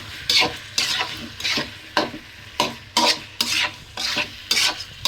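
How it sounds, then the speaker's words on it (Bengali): Spiced potato curry is stirred continuously in a pan, with eight or nine rhythmic scraping strokes roughly every half second over a close, steady frying sizzle, and no voices. "কন্টিনিউয়াস নাড়তে থাকা লাগবে, ঠিক আছে?"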